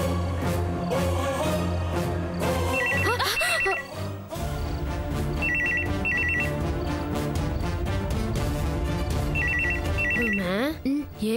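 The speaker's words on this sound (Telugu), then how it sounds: "ఇక్కడ ఫోన్ రింగ్ అవుతున్న సౌండ్ వస్తుంది." A telephone rings in repeated bursts of trilling bells over a background of dramatic music, with a sweeping musical sting between rings.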